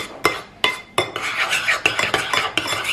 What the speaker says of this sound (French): Et il n'y a plus qu'à mélanger tout simplement.